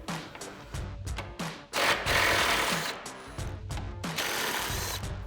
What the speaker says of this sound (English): we need our 8mm socket and an extension on our impact